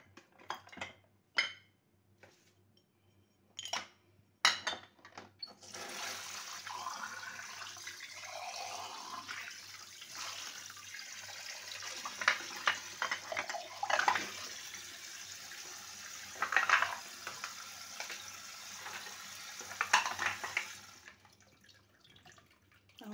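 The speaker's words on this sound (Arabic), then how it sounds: "غنغسل هاد المعينات هادو" Dishes, cake pans and utensils being washed under running tap water in a home kitchen, steady water rush for most of the clip with clinks and knocks of dishes, preceded by a few separate bangs.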